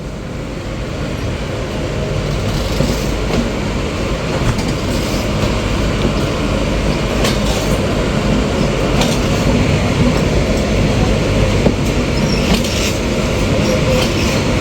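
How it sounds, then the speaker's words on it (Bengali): The Chitra Express with LHB coaches pulls away, a loud, dense rumble of wheels and carriages rolling steadily and building slightly, with occasional sharper clanks over the continuous roar. "এরই সাথে কিন্তু আমাদের ট্রেনটিও ছেড়ে দিল তার পরবর্তী যাত্রা বিরতির উদ্দেশ্যে।"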